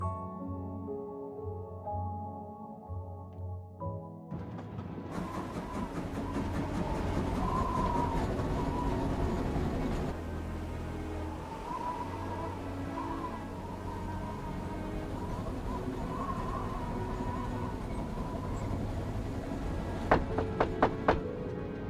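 Inside a moving Orient Express carriage in a murder-mystery video game, a steady low rumble of the rolling train runs under a soft musical score, building after a few seconds and holding, with light clicks near the end.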